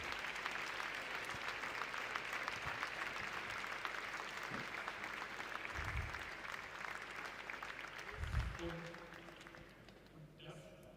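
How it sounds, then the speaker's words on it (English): An audience at a startup demo day event claps in sustained, dense applause for several seconds, steady and filling the room before fading near the end, with a little speech mixed in. "I would like to give an incredible applause for the Accelerator team"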